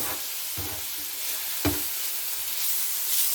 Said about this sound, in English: We'll go ahead and start mixing the onion in with it.